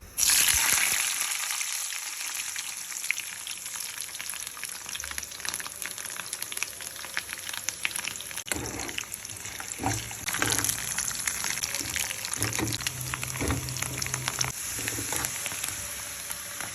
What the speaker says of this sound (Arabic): نحط 3 معالق سمنة لنحمص اللوز فيهم